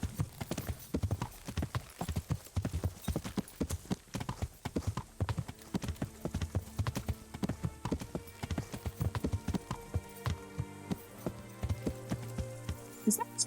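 Steady clip-clop of horse hooves on hard ground in the video game Kingdom Come: Deliverance, a brisk rhythmic trot that continues throughout, fairly close.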